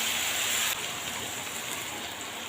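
Spice-rinsing water poured into a cooking pan for a fish chorchori, a steady splashing rush that is loudest at the start and then settles into a softer, continuous wash.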